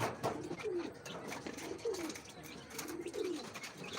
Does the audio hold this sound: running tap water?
no